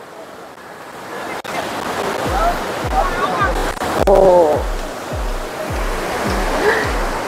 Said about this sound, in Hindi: ये भागीरथी नदी है, और शोर नदी का इतना ज्यादा तेज है ना